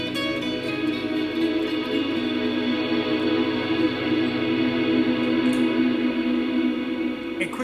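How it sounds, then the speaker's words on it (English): Electric guitar run through the particle verb reverb on a Line 6 Helix, a sustained chord washing into a dense, muddy ambient wash that rings steadily throughout with no gaps. "if you just have the particle verb turned on and you play a chord and then you start playing a solo"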